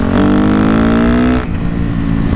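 A Yamaha YZF 250 motorcycle engine revs hard and loud up close, holding a high rising whine for over a second before dropping back to a rough idle.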